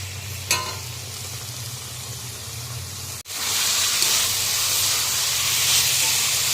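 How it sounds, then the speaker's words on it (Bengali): Soybean and potato curry fries in a pan with a steady hiss. A low hum sits underneath at first, and after a sharp cut the sizzle becomes louder and brighter, with no talking. "সোয়াবিনের ভালো করে কষিয়ে নিচ্ছি আর এখানে আলু আর সোয়াবিনটা ভেজে নিয়েছি"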